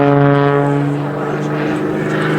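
A propeller aircraft engine drones loud and steady during an aerobatic torque roll at an air display, a sustained harmonic hum with slight shifts in pitch, and a commentator talks over it.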